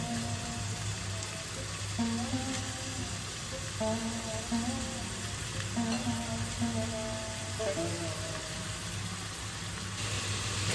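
Chicken pieces added to a pan of onion, ginger and garlic that has been well sautéed, frying with a loud, steady sizzle, while music plays over it throughout; no one speaks.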